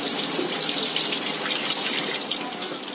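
Fresh tap water runs steadily over rice being washed for biryani, making a close, continuous gushing hiss with no pauses and no speech.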